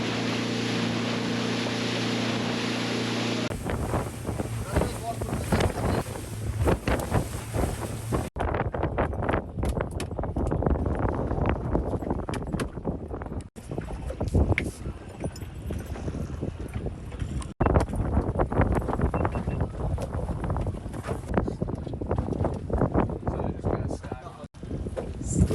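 A fishing boat trolls on choppy Lake Erie, with a steady engine and water rush under constant wind buffeting on the microphone, while someone talks throughout.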